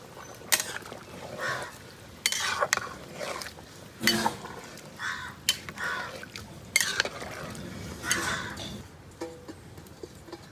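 Rice and water being stirred in a large biryani pot, about two kilograms of washed basmati, heard as repeated close scraping and sloshing strokes with metallic clinks of the ladle against the pot.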